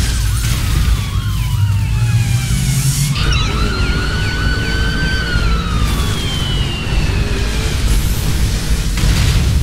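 A police car siren in The Crew driving game wails loud and close, its rising and falling tone cycling repeatedly over a dense engine and road roar, with almost no voice present.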